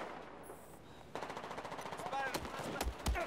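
Rapid machine gun fire in a video game, bursts of automatic shots rattling steadily, with louder heavy impacts near the end.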